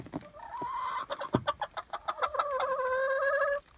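Backyard chickens clucking close by in winter, a rising call followed by a quick run of rhythmic clucks and a drawn-out squawking note, with no talk over it.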